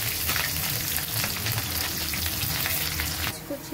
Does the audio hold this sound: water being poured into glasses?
no